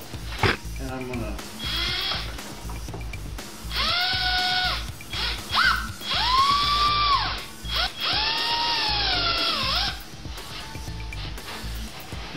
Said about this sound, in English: Now I'm going to take my drill motor